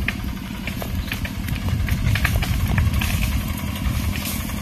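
Tractor engine working a rice field, a chugging mid-pitched motor with rattling clatter, steady and fairly close, swelling slightly louder in the middle.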